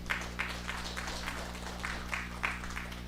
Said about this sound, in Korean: 왜 박수 소리가 이렇게 약해요?